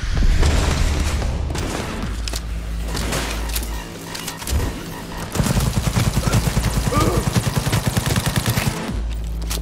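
A sticky grenade explodes in Cyberpunk 2077 within loud, continuous combat noise of heavy gunfire and booms, with rapid rattling bursts in the second half.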